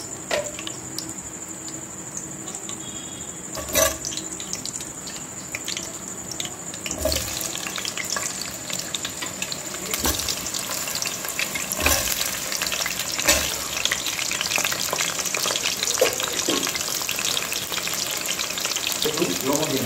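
Potatoes frying in lightly heated oil for a whole-chicken biryani, a continuous dense sizzle that grows louder and rougher over time, with occasional clinks and knocks of a utensil and a faint steady high whine.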